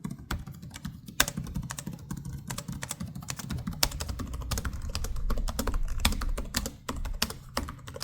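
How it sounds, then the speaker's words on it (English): Fingers type on the keyboards of two gaming laptops, an Asus ROG Zephyrus G16 and a Gigabyte A16 Pro. The key clicks are rapid and uneven and sound close, some sharper and louder than others, with no one speaking. "The Zephyrus is more clicky and feels a bit more sturdy while typing, while the Gigabyte is a lot quieter with slightly shorter key travel."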